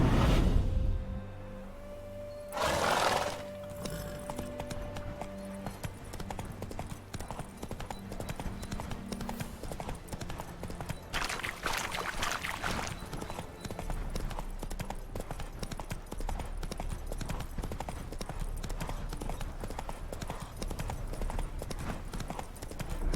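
Horse hooves clip-clop in The Witcher 3, a steady rhythmic trot played over game music and ambience, with a brief whoosh early on and hoofbeats continuing throughout.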